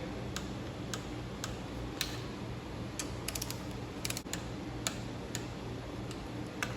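Repeated sharp clicks of a torque wrench tightening bolts on a Kohler Courage engine, several spaced clicks in quick bursts over a steady background hum.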